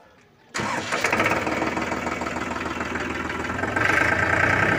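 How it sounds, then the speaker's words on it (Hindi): A Powertrac diesel tractor engine cranks and catches after a brief quiet moment, settling into a loud, steady rumbling idle with a gritty clatter that rises slightly toward the end. "अब ट्रैक्टर को स्टार्ट कर लेंगे।"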